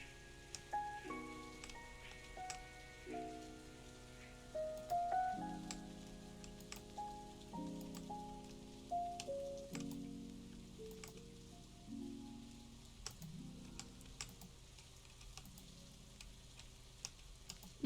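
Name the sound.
rain in a video game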